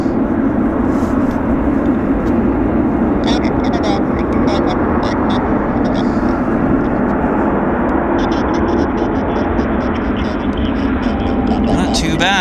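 WestJet airliner arriving at Vancouver International from Calgary, a steady broad engine roar holding loud throughout with a voice talking over it.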